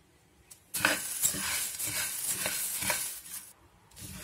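Coriander seeds fry in a pan after cumin, producing a steady, close, crackling sizzle that holds for about three seconds before easing off.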